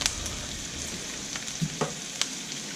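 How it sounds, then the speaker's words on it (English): Onion and thyme sautéing in a pan for chicken Provençale, giving a low steady sizzle and frying hiss close by, with a few brief clicks and stirring touches scattered through. "we'll just saute our onion and our thyme there for a little bit"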